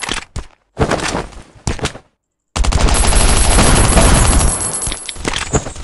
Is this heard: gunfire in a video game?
yes